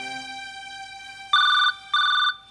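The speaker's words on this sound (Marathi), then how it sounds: "टेक मध्ये फोन कसा वाजतो तुझा?" A mobile phone rings during a comedy sketch about a film shoot, sounding two clear, loud electronic ringtone bursts over a faint tonal background.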